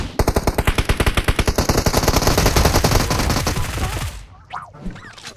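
A long, loud burst of rapid automatic gunfire from PUBG Mobile, evenly paced shots close by for about four seconds before it stops and fades into quieter background sounds.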